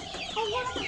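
Chickens on a farm cluck close up in a quick run of nasal, rising calls, loud and clear with no talk.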